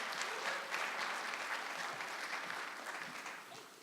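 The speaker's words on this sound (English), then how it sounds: "Let's give a round of applause for our second in person." A talk audience claps for a guest coming on stage, a sustained round of applause at moderate distance that tapers slightly toward the end.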